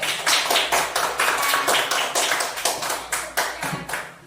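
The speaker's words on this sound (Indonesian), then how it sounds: "Beri aplaus untuk kelompok 1 dulu." Classroom applause for a presenting student group: a sustained burst of many hands clapping, fairly close and steady for several seconds before tapering off slightly, with no talking over it.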